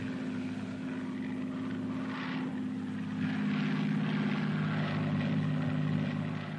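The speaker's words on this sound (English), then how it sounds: "The Royal Navy tested an autogyro on HMS Massey in 1942" A Royal Navy autogyro test flight aboard HMS Massey in 1942 gives a steady, droning propeller and engine hum with a rhythmic beating pulse, swelling slightly louder midway and holding on with no voices.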